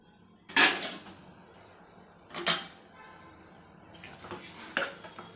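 Lid set onto a pot of cooking Maggi noodles in a home kitchen, a few sharp metallic clanks and clatters spaced apart, close and fairly loud, with no talking.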